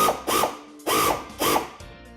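A power tool drives a bolt down through the serrated head on a poly bracket arm against a fender, buzzing in three short whirring bursts with brief gaps, close and loud, with no speech.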